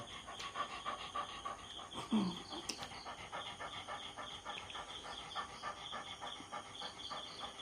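A dog pants close by in a quick, steady rhythm that runs the whole time without a break, with one louder breath partway through.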